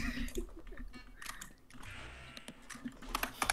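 Irregular clicks of typing on a computer keyboard, close and fairly quiet, with scattered louder taps and some faint background rustle.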